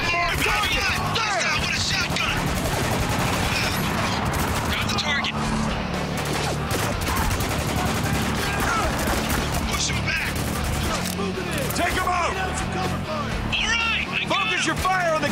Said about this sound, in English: Some heavy fire here.